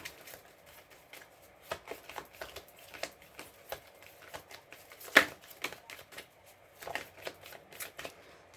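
Tarot cards being shuffled by hand, a steady run of soft papery riffles and taps with one sharper snap near the middle, fairly quiet and close with no talking.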